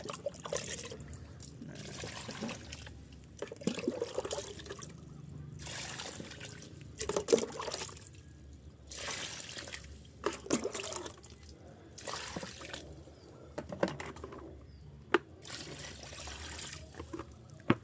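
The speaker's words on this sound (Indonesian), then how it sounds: "Kemudian kita langsung tuangkan saja ke dalam medianya ya." Liquid fertilizer solution containing humic acid poured into the growing medium of a potted grapevine, a soft intermittent trickle and splash in several short bursts, fairly close, with light background noise and no talking.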